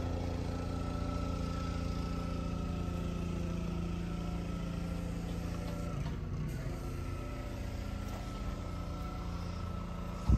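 Suzuki four-stroke outboard engine idling on a Grainger TR36 trimaran, a faint, steady low hum with a smooth, even tone, a slight change midway, continuing alone for about ten seconds.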